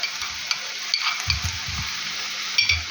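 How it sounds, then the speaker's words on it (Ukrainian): Gentle sizzling of tomato paste frying in a hot pan with a few low scraping stirs, close and steady, no talking. "І тепер її отут трошечки підсмажити на середині."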